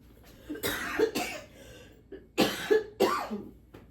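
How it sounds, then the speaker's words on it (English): Several harsh coughs in short bursts, a pair early and another cluster later, close and fairly loud with brief pauses between. "I still got that cough, and it just wants to start sometimes"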